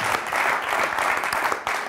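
A studio audience applauds at the close of a TV programme, a dense, loud burst of clapping filling the whole moment with no talk over it.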